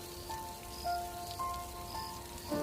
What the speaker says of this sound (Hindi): बारिश की बूंदें लगातार टपक रही थी